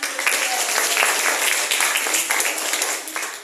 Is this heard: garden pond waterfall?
no